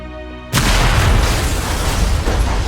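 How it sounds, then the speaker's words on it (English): A Stark Industries bomb detonates in a WandaVision episode: an abrupt, very loud boom cuts in over a quiet tonal backdrop, then gives way to a sustained, rumbling roar of blast and debris. "They were literally watching Dick Van Dyke when that explosion happened."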